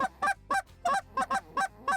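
A hunter growls deep-voiced honks into a goose call, imitating a Canada goose: seven or eight short, loud, evenly spaced honks in quick succession, close to the microphone.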